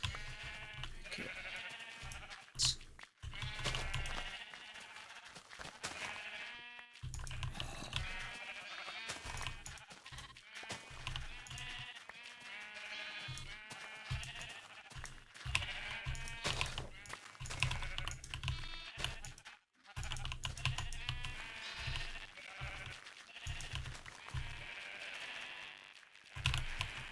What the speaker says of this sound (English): every single time I think I'm almost done shearing these sheep, they eat another piece of grass